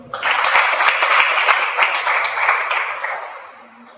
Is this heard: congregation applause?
yes